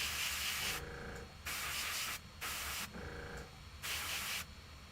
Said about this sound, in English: it's a bad seal between the needle and the body of the airbrush